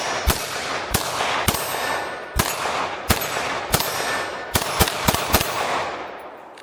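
A Smith & Wesson .22 Magnum pistol fires about ten sharp, loud shots in quick irregular succession, some spaced and some bunched together, each one a crisp crack with a short ring after it.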